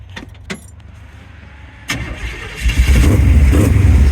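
A Buick Sportwagon's 383 cubic inch LT1 stroker V8 cranks and fires after a few light clicks and jingles, then settles into a loud, deep, rumbling idle that grows heavier over the last seconds.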